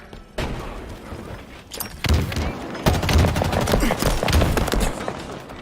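Rapid gunfire and a grenade blast from the video game Halo Infinite, with dense overlapping shots and booms building after a brief quiet start and staying loud and continuous throughout.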